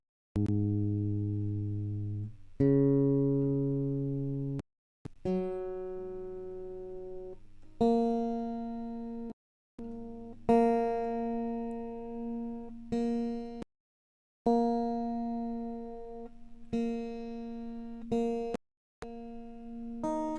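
Single guitar strings are plucked one by one to check the tuning, each note ringing out clearly and decaying before short gaps of silence, with no talking.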